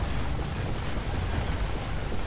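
The ion cannon in Command & Conquer Kane's Wrath strikes as a steady, roaring broadband rumble, like an ongoing eruption, fairly quiet and unbroken throughout.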